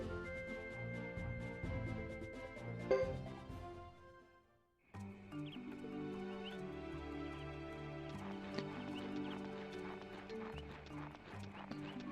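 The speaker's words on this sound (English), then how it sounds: "Sounds like we're walking through snow or something." Crunchy footsteps trudging through snow in the PS2 game Suikoden III: a steady run of rhythmic steps under continuous game music, with a brief pause partway through before the music swells again.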